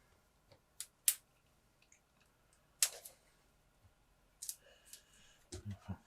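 Plastic shrink wrap being pulled off a Zombicide Fort Hendrix board game box: scattered, quiet crinkles and sharp clicks come in short separate bursts with near-silence between, and no one speaks.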